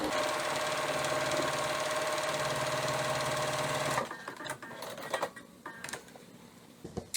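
Sewing machine running steadily as it stitches a long swoop across a place mat, a loud continuous whir for about four seconds, then stopping into quieter handling clicks and rustles.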